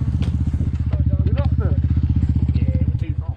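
A motorbike doing wheelies, its engine loud and close with a rapid pulsing putter, while people talk over it.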